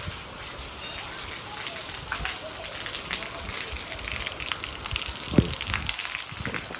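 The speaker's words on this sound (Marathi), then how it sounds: "काय चिकार पाऊस आला" Heavy rain pours down steadily in a dense, even hiss, with one sharp knock standing out near the end.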